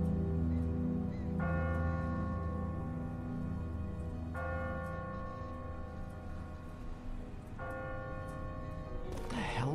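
Deep church bell tolls three times, about every three seconds, from a bell tower in a video game, each strike ringing out over a low rumbling ambience and fading slowly.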